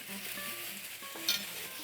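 Chili powder is stir-fried in a pan for Korean-style jjamppong and gives a continuous soft sizzle with faint scraping of the stirring and one brief sharper crackle. It is close and steady, with no talking.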